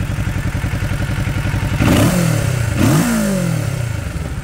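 A Kawasaki Ninja 650 motorcycle engine thrums loudly nearby and then revs hard twice toward redline in first gear, each surge rising in pitch before dropping back to a throbbing idle.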